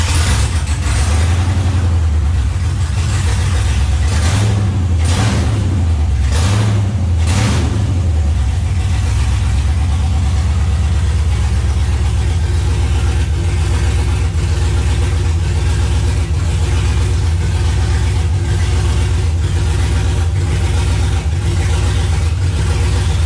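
A Chevrolet C10 truck with a swapped 6.0 LS V8 and 4L80e gearbox cranks over and fires, blipping a few times before settling into a steady, loud idle that runs on alone.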